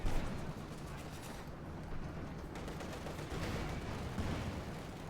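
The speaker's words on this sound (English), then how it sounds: "Sniper fire, light machine gun fire" Sniper shots and light machine gun fire rattle through a Company of Heroes 2 battle between German and Soviet forces, dense overlapping gunfire and distant bursts forming a continuous noisy din.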